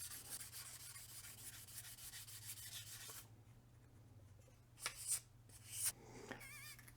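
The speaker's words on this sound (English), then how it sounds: "I'm going to keep going, see how far I can sand it" Sandpaper worked by hand over painted finish on a test piece for a bicycle frame: a steady, close, rasping rub for several seconds, then quieter strokes with a few louder scuffs, no talking.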